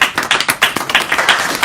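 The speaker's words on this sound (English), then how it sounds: "Can we give him a round of applause?" Close, lively clapping from a small seminar audience, quick irregular claps overlapping in a short burst of applause.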